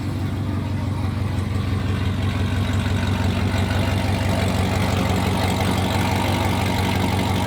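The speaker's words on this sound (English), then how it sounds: "It also sounds like it has a little chop, but I think that's just the tune." A Chevrolet Corvette C7 Z06 with an aftermarket exhaust idles loud and close, a steady deep rumble with a slight uneven chop running through it the whole time.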